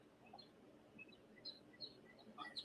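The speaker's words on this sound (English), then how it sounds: "it sounds like it's a beautiful day out with those birds chirping" Small birds chirp outdoors on a hillside, with short, high tweets scattered irregularly and getting busier toward the end. The calls are faint and fairly distant over a quiet background.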